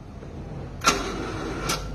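A Honda Civic that often fails to start is cranked, with two brief sharp bursts of starter noise over a faint background hum. The engine does not clearly catch.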